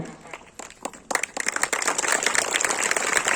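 A school assembly audience breaks into applause during an annual inspection ceremony: scattered claps at first, then a dense, loud burst of clapping from many people that continues strongly to the end.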